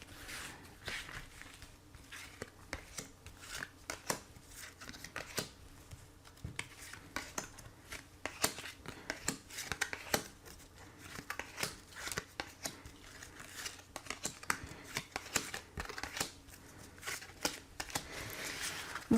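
A deck of oracle cards is shuffled for a card reading, giving a quiet, continuous riffling and flicking rustle with many small crisp ticks throughout, close and low in level, with no talking.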